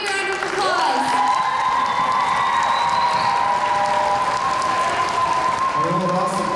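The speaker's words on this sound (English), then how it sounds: "So give them a big round of applause." A school assembly audience of students claps and cheers, a steady wash of applause with whoops and a high sustained whine riding over it, fading toward the end.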